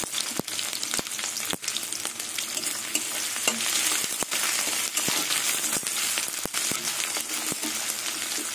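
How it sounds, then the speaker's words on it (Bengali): Chopped onions sizzle steadily in hot oil with garlic in a pan while a spatula scrapes and taps the pan at regular intervals, loud and close throughout. "এবার আমি কুচনো পেঁয়াজগুলো দিয়ে দেবো।"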